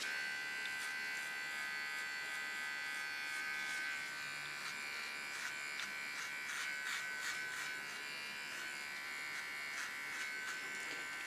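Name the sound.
small hair clipper cleaning up the hairline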